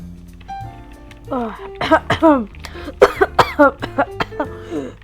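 Several harsh coughs in quick bursts in a smoke-filled room in a video game, close by, mixed in with people talking over a low background hum.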